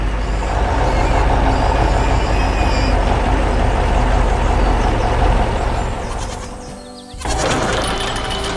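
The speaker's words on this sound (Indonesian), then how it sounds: "Truk putih sedang melintasi medan yang keras." A white cartoon truck rumbles across rough, hard ground: a loud, continuous engine roar that dips and fades near the end, then cuts back in with a brief bleat-like squeal. No one speaks.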